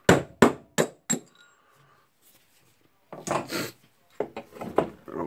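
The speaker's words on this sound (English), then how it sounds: "Then of course the hammer." Sharp hammer blows on a punch while working on a Makita HR2811FT rotary hammer drill's tool holder: four loud, close metallic strikes in quick succession, then a pause and further knocking and clatter.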